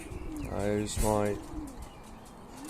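Pigeons coo in a racing pigeon loft, with two clear close coos in quick succession and faint chirps around them. Someone speaks briefly at the same time.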